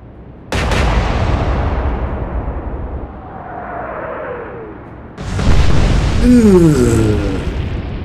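Naval guns fire in the World War II naval game Atlantic Fleet, set in a Royal Navy Battle of the Atlantic campaign against the Tirpitz. Two loud booming blasts land several seconds apart, each trailing into a long rumbling decay.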